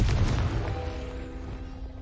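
A Confringo blasting spell goes off in the Hogwarts Legacy video game, a deep low boom that opens loud and then rumbles and fades over about two seconds, with a faint tonal ring trailing beneath it.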